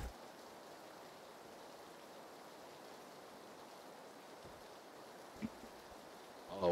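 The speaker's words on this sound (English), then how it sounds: "I know, it's always rainy." Steady, faint rain hiss falling in the video game PUBG, a soft, even patter with a couple of brief thuds near the end.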